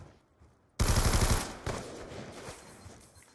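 Gunfire in a search and destroy video game match, with a sudden loud rapid burst of automatic shots followed by fading echoes and a few scattered later reports.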